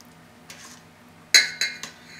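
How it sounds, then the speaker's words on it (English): A utensil stirs a melting bibingka mixture in a pot. A few sharp metallic clinks and scrapes come close together near the end after a quieter stretch. "Keep stirring it here. Make sure everything melts."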